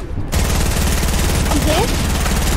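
Rapid automatic gunfire from a Fortnite match rattles continuously and loudly, with faint voices underneath.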